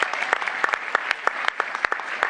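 Crowd applause at a startup pitch event, with a few close, sharp individual claps standing out in an irregular rhythm over the denser clapping of the room.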